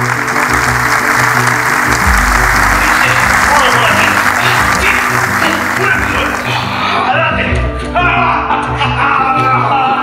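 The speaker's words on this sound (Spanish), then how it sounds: "Un fuerte aplauso, por favor" An audience at the closing gala of an amateur theatre festival applauds loudly and continuously, with music playing underneath; the clapping thins out toward the end.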